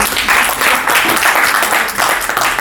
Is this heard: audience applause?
yes